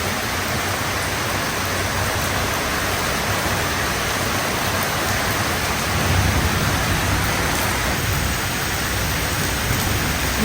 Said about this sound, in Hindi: वाह जी वाह, क्या सावन की बारिश लगी है